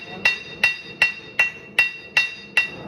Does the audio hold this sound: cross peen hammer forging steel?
yes